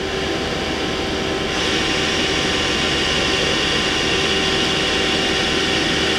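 Hardinge SR 150MSY multi-axis CNC turning center from 2007 running its live tool, a steady whining machine drone with a tonal hum that rises slightly partway through and holds, continuous and fairly loud with no talking.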